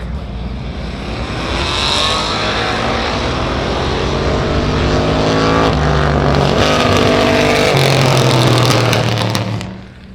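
A red Barracuda and a white Mustang launch in a drag race, their engines building into a loud, sustained roar that rises in pitch as they accelerate away, then cuts off abruptly at the end.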